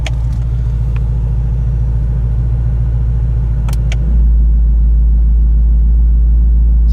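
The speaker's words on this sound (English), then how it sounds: "the most interesting toggle switch of them all here is the active exhaust. So we're gonna take a listen here from inside the vehicle." 2017 Ford Mustang GT350 heard from inside the cabin, with a loud steady exhaust drone at idle that switches to a deeper, heavier rumble partway through as the active exhaust goes to sport mode.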